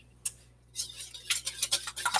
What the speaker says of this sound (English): we're going to whisk the lemon pepper into our eggs.